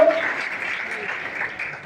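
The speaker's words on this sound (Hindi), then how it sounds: "ताली बजाओ, देखो कंजूसी बिल्कुल ना करो" An audience claps during a motivational speech on youth, a steady patter of many hands that is moderately loud and fills the room, with a voice briefly audible at the start.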